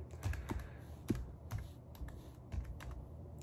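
Typing a cryptsetup command on a computer keyboard, a quick irregular run of soft, close key clicks with small pauses, faint and alone.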